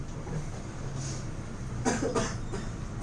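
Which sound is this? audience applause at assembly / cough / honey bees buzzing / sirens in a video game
cough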